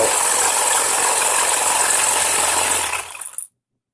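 The motor of a Tamiya TA01 RC car spins uncontrolled with a loud, steady whirring rattle close by. It cuts off abruptly near the end and leaves silence.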